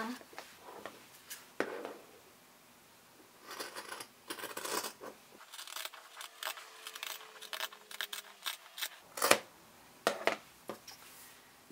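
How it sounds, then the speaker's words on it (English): Scissors snipping through three stacked layers of fabric while sewing a face mask, with short crisp cuts in bursts and pauses, close by and fairly quiet, and a faint talking voice in places. "you can go ahead and cut all 3 pieces of fabric together"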